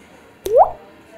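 A donut dipped in water drips and squishes in one short, close wet plop that rises briefly before fading into quiet.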